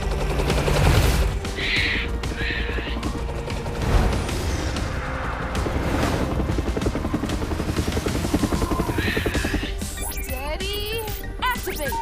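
Helicopter rotor chopping in an animated cartoon chase, a steady loud thrum running throughout, mixed with action effects, bursts of gunfire-like crackle and short whooshing tones.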